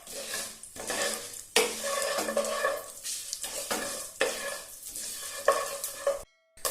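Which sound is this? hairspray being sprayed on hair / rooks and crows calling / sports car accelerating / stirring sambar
stirring sambar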